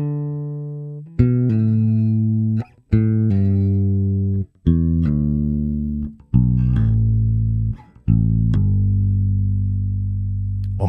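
A bass guitar plays a descending major pentatonic scale with pull-offs, in clear, sustained notes arranged in short linked groups with brief gaps between them. It is played solo and cleanly, with no talking.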